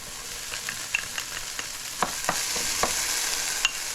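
Carrots and aromatics sauté in a pan with a steady close sizzle, broken by a series of quick scraping stirs and utensil taps, and no voices.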